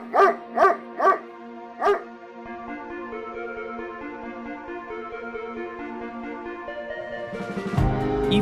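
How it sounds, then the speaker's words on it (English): A dog gives four sharp, close barks in quick succession, then lets out a long, wavering whine or howl that rises in intensity before the sound ends. "your neighbor's dog barking all day long"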